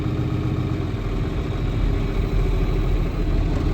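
Small John Deere tractor engine idling outdoors in snow, a steady low rumbling chug with even pulsing, close and continuous with no talk.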